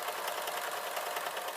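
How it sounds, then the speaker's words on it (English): A sewing machine stitches up a trouser leg on yoga-style parachute pants, running with a fast, steady, even mechanical whir close by. "So I'm sewing up the leg"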